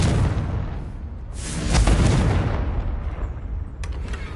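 A Confringo blasting spell in Hogwarts Legacy explodes as a loud, booming blast with a heavy rumbling tail, then a sharper crack follows near the end.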